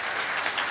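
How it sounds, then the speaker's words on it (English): Brief burst of dense applause from a conference audience at a Unite Europe 2017 talk, a steady wash of clapping with no gaps. "a little round of applause for Christoph"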